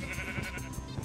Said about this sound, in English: Mr. Sheep, stop pushing me.